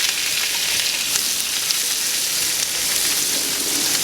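Peppers hit hot oil in a paella sofrito, giving a loud, steady sizzle and crackle that carries on without a break.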